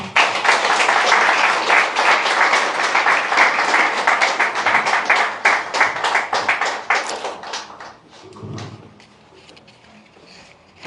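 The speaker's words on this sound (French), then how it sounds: "Sous vos acclamations, s'il vous plaît." An audience gives a long round of applause at a press event before a president's address, a dense, even burst of clapping close by that thins out and fades over about eight seconds, leaving quiet room noise and a small bump.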